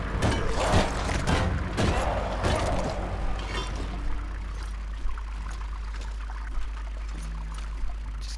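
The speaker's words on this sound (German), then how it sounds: "Das Geplätscher klingt irgendwie ein bisschen verstörend." Water pours and splashes loudly in a stone royal tomb in the video game ArcaniA, a steady gushing rush with clattering bursts that eases after about four seconds into a quieter trickle.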